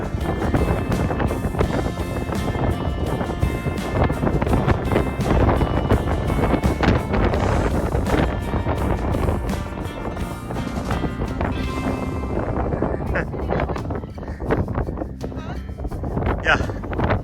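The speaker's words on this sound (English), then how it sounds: "Kind of windy out." Strong wind gusting outdoors in a desert national park, a constant loud roar buffeting the microphone, with people talking close by underneath and the rush easing slightly toward the end.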